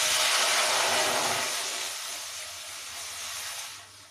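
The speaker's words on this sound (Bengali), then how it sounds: "এরপর দিয়ে দেবো ওই কড়াইতেই 1 গ্লাস মতো জল।" Water poured into a hot wok of dry-roasted spices for a fruit chutney bursts into a loud hiss of steam that gradually fades.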